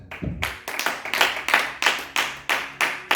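A church congregation clapping together in a steady, brisk rhythm, with each clap sharp and evenly spaced and no voices over them.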